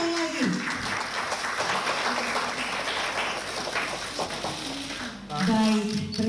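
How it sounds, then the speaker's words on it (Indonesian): Sustained applause from a crowd at an Indonesian political event in East Java backing Khofifah and Emil Dardak, steady clapping running throughout with a voice speaking over it near the end. "Kita berikan tepuk tangan sekali lagi."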